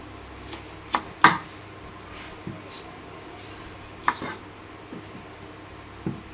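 Vegetables being chopped with a knife on a board to make Maggi, a handful of sharp, irregular knocks and clicks spread over several seconds, fairly close, against quiet room tone.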